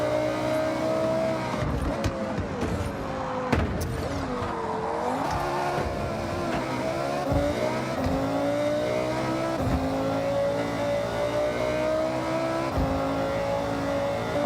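A racing car of about 800 horsepower in Forza Horizon 6, its engine revving hard and continuously with rising and falling pitch through gear changes, sharp shift and impact bursts, and occasional tire squeal, loud and close throughout.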